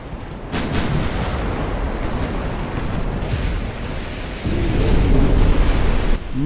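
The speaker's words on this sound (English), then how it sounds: "Massive explosions here." Deep rumbling explosions in the naval battle game Ultimate Admiral Dreadnoughts roll on continuously, heavy and booming, with a louder surge of explosive noise near the end as a heavy cruiser is destroyed.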